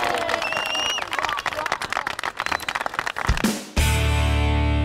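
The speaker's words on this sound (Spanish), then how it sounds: "Vamos a darles un aplauso, por supuesto." A television quiz show studio audience in Burgos breaks into applause, a dense run of clapping with some cheering, ending in an abrupt cut to a loud music sting.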